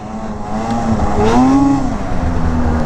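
A 2020 Arctic Cat Riot snowmobile runs loud and close, its engine drone rising in pitch as it accelerates, then holding a strong, steady whine while riding.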